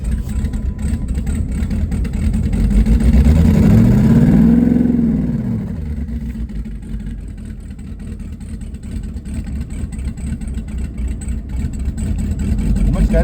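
An LS-swapped twin-turbo limousine with no power steering cranks and catches, then its V8 revs up and settles into a loud, rough, steady idle close by.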